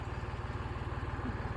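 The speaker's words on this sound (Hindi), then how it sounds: "ट्रैक्टर अपने आप धीरे धीरे धीरे धीरे लेके जा रहा है" A tractor engine labors at low revs, slowly towing a Suzuki Jimny stuck in the mud, giving a steady, rapid low chugging pulse heard fairly close with no talk over it.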